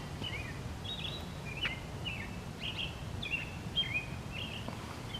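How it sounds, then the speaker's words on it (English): A bird calls before dawn on a July night walk: short, repeated chirps, fairly faint and spaced apart, over a low steady background rumble. "There's a bird. It's about that time of morning."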